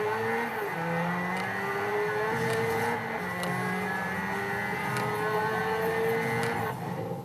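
A car engine revving in the racing video game Forza Horizon 2, a sustained, steady engine drone with shifting pitch and faint tire noise, moderately loud with no talk.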